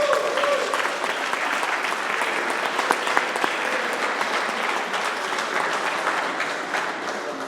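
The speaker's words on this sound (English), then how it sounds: "Give it a round of applause." An audience at a 50th anniversary celebration for VM in Binghamton breaks into sustained applause. Dense, even clapping fills the room at a steady loudness for the whole stretch, with no pauses.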